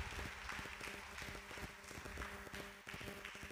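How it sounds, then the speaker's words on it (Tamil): A church congregation claps through a Bible Sunday mass at Nangathur, a dense, steady wash of many hands filling the room at an even level for several seconds. "கைத்தட்டி நம்முடைய பாராட்டுகளை வாழ்த்துக்களை நாம் தெரிவிப்போம்"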